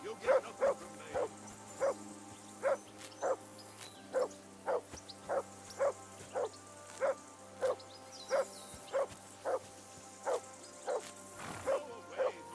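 A dog barks in Kingdom Come: Deliverance II, repeated evenly spaced barks about every half second over a steady low hum, moderately close and fairly quiet.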